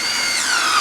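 A power drill drives a screw into a board of a wooden log box with a crack running down it, giving a short, steady, close whirring whine.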